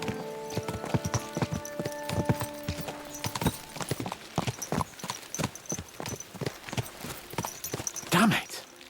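Horse hooves clip-clopping as riders spur their mounts on in the medieval video game Kingdom Come Deliverance 2, a quick rhythmic run of hoofbeats with musical tones underneath and a brief snort near the end.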